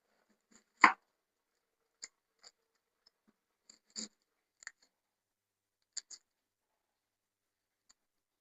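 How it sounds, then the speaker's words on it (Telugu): A knife cuts onions in a home kitchen, giving a few sparse, irregular crisp taps that are quiet and close, with long silent gaps and no talking. "ఉల్లిపాయలు కట్ చేస్తున్నానండి."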